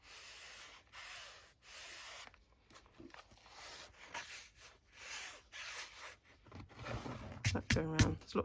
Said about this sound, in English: There's lots of dust because of the sanding.